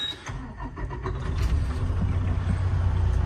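A 2012 Western Star 4900FA truck engine cranks and catches, then settles into a loud, steady low diesel rumble close by, with no talking.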